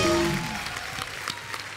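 Studio audience on a TV comedy chat show applauding as actors Akshay Kumar and Katrina Kaif take their seats, a dense burst of clapping that starts loud with music underneath and then thins out over a couple of seconds.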